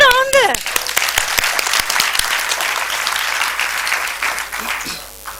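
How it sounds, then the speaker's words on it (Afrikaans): Audience applause at a church-style gathering, brisk clapping that starts after a short voice, stays dense and steady, then thins out near the end. "klap vir julle hande"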